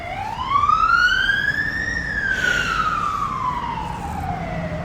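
An emergency vehicle siren sweeps past at close range, its wailing tone rising and then falling as it approaches and moves away, loud and steady for several seconds with no talking.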